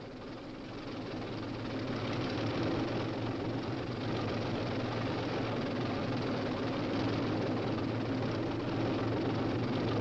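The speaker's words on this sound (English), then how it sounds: "the powerful new M48 Patton tanks swing into action" M48 Patton tanks rolling out on an army training exercise: a steady, loud, broad engine roar and track rumble that builds slightly at the start and then holds constant throughout, with no voices.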